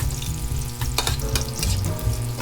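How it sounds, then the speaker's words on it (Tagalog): Garlic, crushed, and onions sautéing in a pan for canned mackerel sinigang, with a steady close sizzle, a few clinks and stirring scrapes, and some background hum. "Saka natin inilagay sa ginigisa natin sibuyas"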